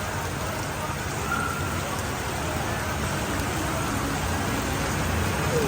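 Heavy rain pours down steadily during flooding on a Manila street, a constant dense hiss with faint traffic noise beneath it and no talk.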